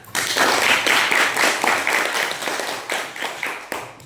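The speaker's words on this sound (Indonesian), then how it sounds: "Ya, tepuk tangan." A classroom of students claps together in a guidance lesson, a dense, steady burst of applause lasting several seconds that thins toward the end.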